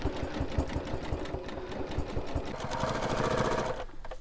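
A sewing machine quilts a pebble pattern, its needle clattering in a fast, steady mechanical rhythm close by. The pace shifts slightly partway through, and the sound stops abruptly at the end, with no talking.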